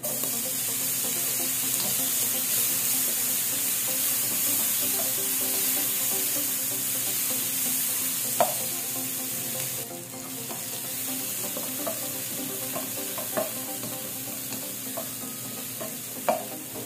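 Garlic and onion frying in a pan, a soft continuous sizzle with occasional utensil clicks and scrapes, fairly quiet, and a change in tone partway through.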